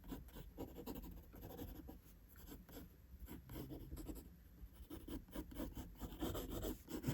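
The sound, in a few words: drawing the outline on paper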